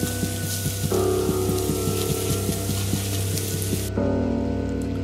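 Steady rain falls in the Minecraft survival game, a dense continuous hiss with soft patter that holds level throughout, alongside a low droning game background and faint plucked tones.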